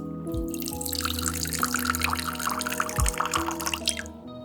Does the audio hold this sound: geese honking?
no